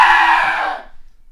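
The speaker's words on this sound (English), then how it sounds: "Everybody scream." A few people scream together in one loud, shrill burst that holds for under a second and then fades out abruptly, close to the microphone with no talking.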